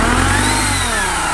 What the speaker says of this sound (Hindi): ये देखो गाड़ी चालू हो गई, ये पाइप्स वगैरह ओपन है ना इसलिए साउंडिंग थोड़ा अलग है